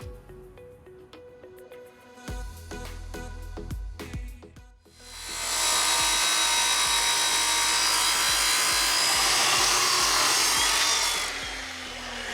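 Power saw cutting metal trim pieces for an office and podcast room, with a few sharp cuts at first, then a loud sustained whine of continuous sawing close by that dies away at the end.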